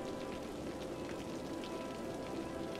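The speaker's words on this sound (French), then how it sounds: "C'est la pluie qu'on entend, je pense." Rain falls steadily in the video game Cities: Skylines, an even, soft patter of drops on surfaces that holds at a constant low level throughout without a break.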